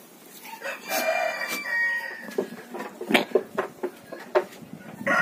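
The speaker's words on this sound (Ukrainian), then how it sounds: "І півні до того ж співають." Several roosters crow on a small village farmstead with goats, with long drawn-out calls followed by a run of shorter clucks and squawks, fairly close and loud under overcast weather, with no talking.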